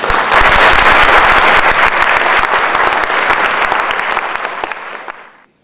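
A theatre audience applauds at a children's comedy troupe's 20th anniversary show, loud dense clapping that fills the room and then gradually thins and fades out near the end.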